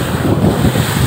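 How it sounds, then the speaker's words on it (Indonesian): Strong sea wind and high waves crash along the west coast of Lampung, a loud, continuous roaring surf with wind buffeting the microphone and no voices. "Ini angin lautnya dari pesisir barat, ini ombak lautnya"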